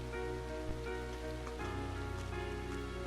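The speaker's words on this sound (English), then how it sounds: "With summer well underway, a rainy spell seemed to hang over Trista." Rain falls in the video game Trails of Cold Steel as a steady, faint patter, mixed with soft background game music and with no talk over it.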